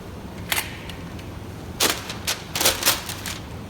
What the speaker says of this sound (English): As I put these clamps on, if you stick them all the way down, sometimes more glue will squeeze out